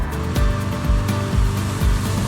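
Car air conditioner blower roaring steadily on full with the cabin fan stuck at maximum, inside a car on a mountain road trip, a constant loud whoosh with low road rumble pulsing beneath it.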